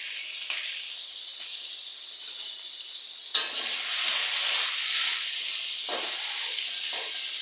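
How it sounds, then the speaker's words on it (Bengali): Shrimp and green chilies fry lightly in oil in a home kitchen pan with a steady close sizzle. The sizzle swells louder midway, broken by brief scraping stirs. "তো এখন একটু হালকা ভাজা ভাজা করবো।"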